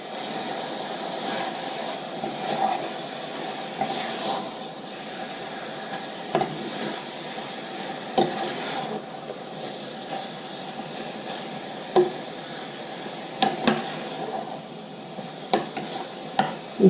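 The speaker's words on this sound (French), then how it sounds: "Donc là je mélange ma viande comme il faut. J'hésite pas à retourner comme il faut dans les oignons, dans l'huile, envelopper ma viande." Pieces of beef being stirred and turned in oil with onions in a pan for a beef Madras, a low continuous sizzle with periodic scraping and clacking of the utensil, close and without speech.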